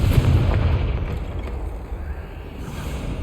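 A Confringo spell explosion in Hogwarts Legacy, heard as a heavy, rumbling boom that rolls on at a steady loudness and fades slightly, with no talk over it.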